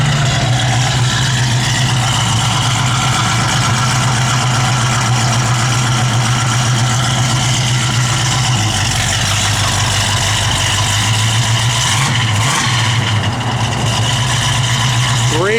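A 1969 Pontiac Firebird convertible idles close by with a steady, deep rumble that holds evenly throughout, and someone talks over it briefly.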